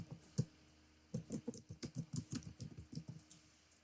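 Typing on a computer keyboard to enter a cardholder name: a quick burst of light, even keystrokes, one isolated tap followed by a steady run of clicks, close and fairly quiet.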